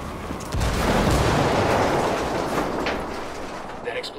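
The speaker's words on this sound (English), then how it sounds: "That explosion got their attention." A heavy explosion in the tactical shooter Ghost Recon: Wildlands gives a loud, broad blast that then rumbles and fades slowly over several seconds.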